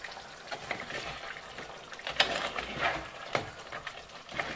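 Crab curry with ground spices fries in oil, giving a close, crackling sizzle with sharp pops and clicks from stirring over a low bubbling hiss.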